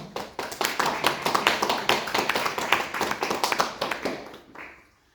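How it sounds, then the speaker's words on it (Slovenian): A seated audience at a panel discussion on healthy, vital ageing applauds three speakers. Dense, close clapping swells and holds for about four seconds, then dies away quickly. "prosil bi en aplavz našim trem govorcem"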